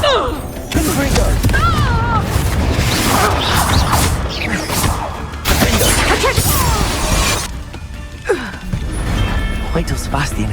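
Confringo fire spell blasts go off amid combat in Hogwarts Legacy, loud booms and shattering crashes with whooshes, under game voices and other spell effects.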